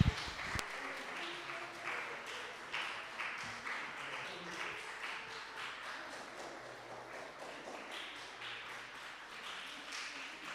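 A Korean church congregation in Dortmund applauds during a Sunday service, a faint, steady patter of many hands clapping in a reverberant hall for about ten seconds.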